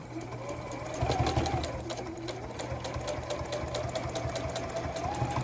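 A domestic Juki sewing machine bastes a denim jacket pocket, its needle running in a steady, rapid mechanical rhythm with a constant motor whir, close and moderately loud, with no pauses.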